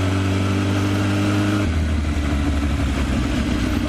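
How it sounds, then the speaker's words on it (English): A sport bike on the road passing close by, a steady loud engine drone that shifts pitch partway through as it goes past, with no talk. "A sport bike, holy shit."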